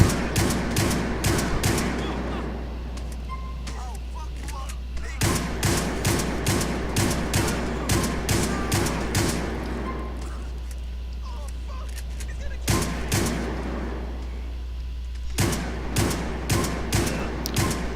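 Shotgun and other gunfire in GTA IV, repeated sharp bursts of shots in clustered volleys separated by brief pauses, over a constant low hum, loud and close.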